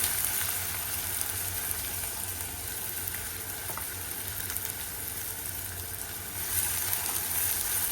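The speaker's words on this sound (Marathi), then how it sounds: "कांदा छान परतून घेते कांदा छान भाजून घ्यायचा आहे खरपूस भाजायचा आहे" Finely chopped onions sizzling in hot oil with whole spices for mutton kheema, a steady, close, continuous frying hiss throughout.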